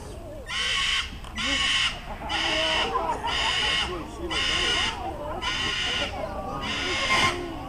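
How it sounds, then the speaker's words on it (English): A Moluccan cockatoo screams over and over in loud, harsh, evenly spaced shrieks, each about half a second long, very close. "the most challenging aspect of sharing your home with a parrot is their loud voice"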